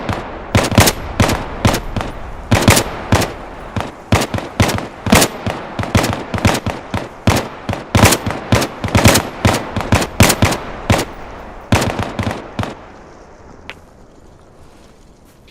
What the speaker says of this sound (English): All units 1-4, this is just probing fire.